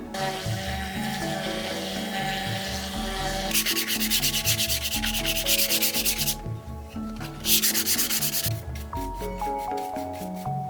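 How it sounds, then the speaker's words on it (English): Rhythmic bursts of sanding, a rasping back-and-forth scrub that starts and stops several times over a steady background music bed. "I'm gonna give this a little bit of a sanding"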